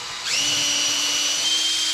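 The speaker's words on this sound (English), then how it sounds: "I'm going to drill one hole here and test fit." A power drill bores a hole into mesquite wood for a turned bowl tabletop, spinning up after a brief quiet moment into a steady, close, loud whine that runs alone.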